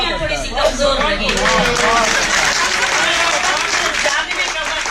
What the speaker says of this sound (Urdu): لیکن تالیاں تھوڑی سی کمزور لگی